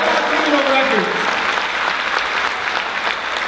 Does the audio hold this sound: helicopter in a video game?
no